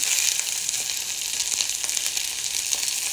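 Coriander stems frying in a pan alongside mint, giving a steady, close hiss and sizzle of oil that holds evenly throughout, with faint stirring movements and no voices.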